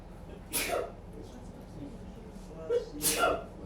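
Two sharp sneezes in a classroom, one early and one near the end, each a sudden loud burst over quiet room tone.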